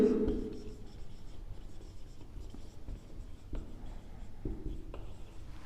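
Pen scratching out economics notes, heard as soft, close scribbling strokes that run in short bursts with small taps between them. The sound stays faint over a quiet room.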